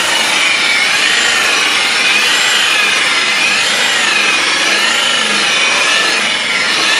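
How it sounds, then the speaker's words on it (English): A polisher buffing car paint with compound after wet sanding gives a loud, continuous, close rubbing whir with a gently rising and falling pitch, steady throughout and without speech. "Now he's buffing"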